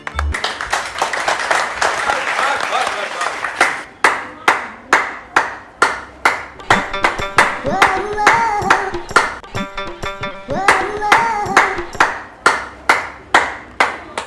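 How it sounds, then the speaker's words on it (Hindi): A group of people claps hands loudly, first as a dense burst of applause and then as steady rhythmic unison claps with occasional cheering, close and prominent. "हमारी पुलिस की टीम को तो ताली बजाइए सबके लिए"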